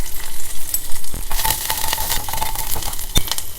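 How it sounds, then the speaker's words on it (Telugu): Chana dal, dried red chillies, green chillies, small onions and curry leaves spluttering in hot oil for a tempering, a loud close crackling sizzle with stirring scrapes and sharp pops, no voices. "పచ్చిశనగపప్పు, ఎండుమిర్చి, గ్రీన్ చిల్లీస్ అండ్ చిన్నులపాయలు, కరివేపాకు పోపులు వేసేసాను."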